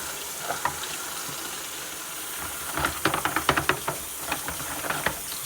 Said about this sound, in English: then I start running hot water